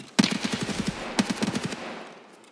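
An RPK machine gun fires in Escape From Tarkov, two quick bursts of rapid, evenly spaced shots, loud and close, with the second burst trailing off into a short echoing decay.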